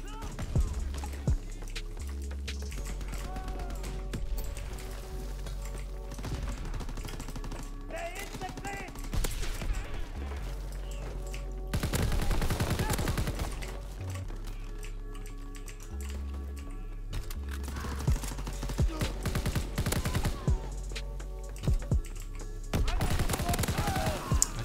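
Rapid bursts of gunfire from the PC shooter Call of Duty: WWII crackle over busy game sound and music, with dense volleys around the middle and end, mixed with clicking keyboard taps.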